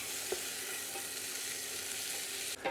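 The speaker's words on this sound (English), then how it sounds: "we go in with our fine beans, which have already been washed. And then we just saute these a little bit lower for 3 to 4 minutes" Fine green beans sautéing over lower heat in a pan with garlic, a steady close sizzle with occasional stirring knocks, and a louder clatter near the end.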